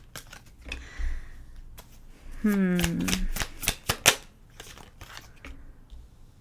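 Tarot cards are handled and shuffled in brief papery riffles and taps, close and moderately loud, mixed with a few sharp clicks while a voice talks intermittently.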